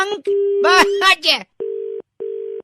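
A telephone call on a radio show cuts off after a burst of talking, leaving a steady telephone tone in two repeated pulses with a short silent gap between them.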